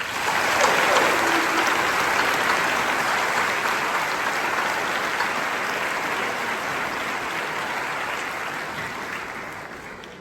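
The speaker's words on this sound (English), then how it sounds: "please join me in a round of applause" Sustained applause from a large crowd at a graduation ceremony, steady and dense clapping throughout with no break, fading slightly near the end.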